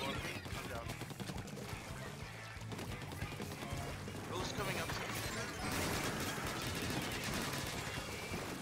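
Rapid weapon fire in Splatoon 3 during a competitive scrim match, dense crackling bursts running throughout over game music and effects, with players talking over it.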